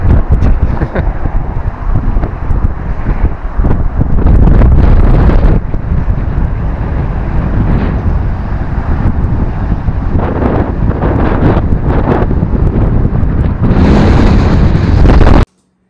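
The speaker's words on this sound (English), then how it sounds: "I don't know if you can hear us because there's a big wind advisory" Strong wind roars across the microphone in Denali National Park, loud continuous buffeting with surging gusts throughout, no talking.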